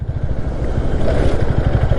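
Royal Enfield Classic 350 motorcycle ridden over potholes: close, loud engine thumping in a rapid pulsing rhythm with rough rumble and scraping jolts, no talking.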